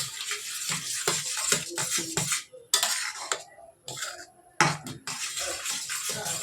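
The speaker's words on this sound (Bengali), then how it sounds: "এটা গাঢ় হওয়া অবধি নেড়ে যেতে হবে, নাহলে নিচে লেগে যাবে।" A spoon scrapes and clatters steadily inside a pot as rice flour is stirred into boiling coconut milk for kheer, with rapid uneven metallic knocks close by and no talking.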